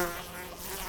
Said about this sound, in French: Une mouche est entrée dans mon laboratoire.